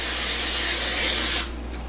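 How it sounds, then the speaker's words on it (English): PAM cooking spray hisses from the can onto a pan in one loud, close burst of about a second and a half that stops abruptly. "I will spray the pan with PAM."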